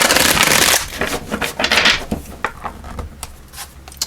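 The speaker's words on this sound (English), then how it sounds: "Let's give these a shuffle." Rapid papery riffling and flicking of tarot cards up close, a dense burst at first, then scattered softer slaps and taps.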